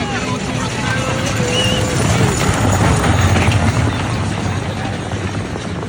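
Horses pulling chuckwagons gallop three wide around a turn in a CPCA chuckwagon race at Whitecap Dakota First Nation, a loud continuous rumble of hooves and wheels mixed with crowd noise under a race announcer's voice.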